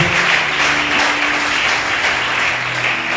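A church congregation applauding steadily together, a dense, loud wash of clapping that holds evenly for a few seconds with no voices on top.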